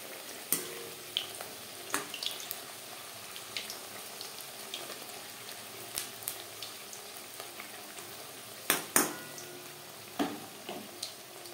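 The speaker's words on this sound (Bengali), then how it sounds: "কড়াইতে যতটা জায়গা আমার সেই পরিমাণে পাপড়ি ভাজবো" Papdi, the crisp flour crackers for papdi chaat, frying in a wok of hot oil, giving a steady soft sizzle broken by sharp clinks and stirring taps from a utensil, with no voices.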